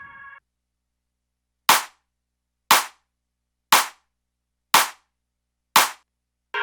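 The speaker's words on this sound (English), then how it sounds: "These are claps." Five sharp, identical claps from a drum track sound at an even one-per-second pulse, each with a bright snap and short decay, alone after a brief sustained tone at the start.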